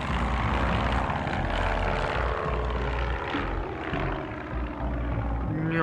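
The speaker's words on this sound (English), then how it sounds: "Is that a plane in the distance?" An airplane in the Placid Duck Simulator video game drones with a continuous propeller-engine hum, steady and fairly loud rather than distant, with a slight dip near the end.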